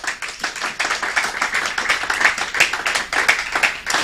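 A church congregation applauds, a dense, steady round of many hands clapping close by that keeps going for several seconds with no talk over it.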